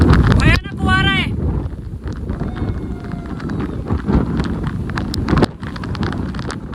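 Strong wind buffets the microphone high on Rajgad fort in the Sahyadri hills, a steady loud roaring rumble throughout, with a voice speaking briefly near the start.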